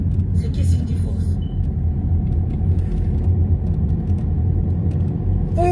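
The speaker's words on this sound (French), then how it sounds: "J'ai un gros camion devant moi, mon Dieu." A large truck travels on the road just ahead of a car, giving a steady low rumble of traffic and engine noise throughout, with someone talking over it.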